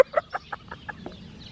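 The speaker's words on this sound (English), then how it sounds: "All birds are singing now" Chicken clucks sound close by outdoors, a regular series of about six short calls that fade gradually, with a faint mixed background of other birds.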